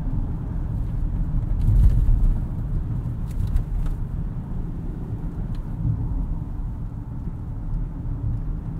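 Cabin of a 2022 Rolls-Royce Cullinan cruising down the road, a steady low rumble of road and wind noise with faint ticks and a slight swell early on, no talk.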